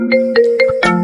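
A phone ringtone chimes nearby, a loud, clear run of four quick melodic electronic notes over a sustained tone, with no voices.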